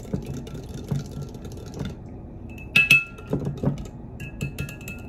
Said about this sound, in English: I'm going to stir it, kind of mix it together pretty good